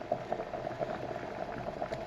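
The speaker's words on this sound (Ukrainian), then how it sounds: "а до речі, чайник закипів" An electric kettle boils water that is being heated through a homemade 72 V to 230 V 50 Hz inverter at about 550 W. Soft, dense bubbling and popping sound close by for the whole clip.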